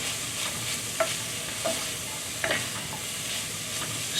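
Gai lan tossed in hot oil with ginger and garlic gives a steady, close sizzle with a few soft clinks and scrapes of stirring in the wok, and no voices.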